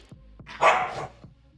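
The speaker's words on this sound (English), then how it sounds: "You hear him yelping?" A restless puppy gives a single short, high yelp in the middle, with faint ticking and tapping noises before and after it in a quiet room.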